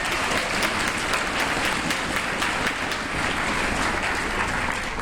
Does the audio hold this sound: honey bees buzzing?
no